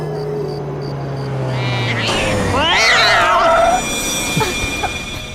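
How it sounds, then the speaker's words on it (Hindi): Cat meowing in front of a car in a Hindi-dubbed horror film: a loud, drawn-out, wavering meow rises and falls over a steady engine hum, close and clear. "सामने बिल्ली आ गई इसलिए ब्रेक मारना पड़ा"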